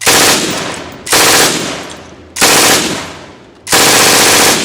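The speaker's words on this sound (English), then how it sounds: "the MG42, a machine gun that redefined battlefield dominance" An MG42 machine gun fires four long, loud bursts, each a tearing, buzzsaw-like roar at a very high rate of fire, separated by short gaps.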